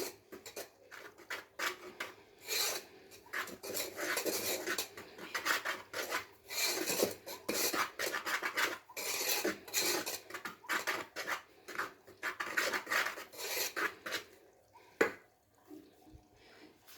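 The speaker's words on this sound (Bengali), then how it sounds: "এবারে শুকনো উপকরণগুলোকে একবার খুব ভালো করে মিশিয়ে নিচ্ছি।" Dry ingredients, including semolina, are stirred together in a bowl, making close, rasping scraping strokes in a quick, uneven rhythm that runs for about fifteen seconds before it stops.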